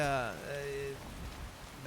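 Soft, steady rainfall in the video game Skyrim hisses faintly beneath someone talking through most of the moment.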